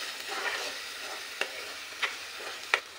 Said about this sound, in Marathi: मसाला छान असा परतून घ्यायचा.